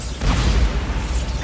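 Bombarda blasting spell in a Harry Potter-style video game, a short low rumbling burst with whooshing and mechanical crunching, loud and close, lasting about a second and a half.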